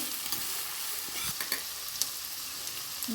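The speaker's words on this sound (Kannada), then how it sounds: "ತರಕಾರಿ ಎಲ್ಲ ಆಯಿಲ್ನಲ್ಲಿ ಚೆನ್ನಾಗಿ ಫ್ರೈ ಮಾಡ್ಕೊಳ್ಬೇಕು ಹೀಗೆ" Chopped vegetables, including carrot, fry in hot oil for vegetable upma while being stirred, giving a steady close sizzle broken by a few scraping stir strokes, with no talking.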